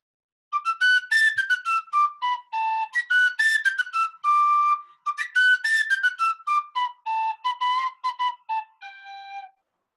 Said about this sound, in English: So it's like a tin whistle.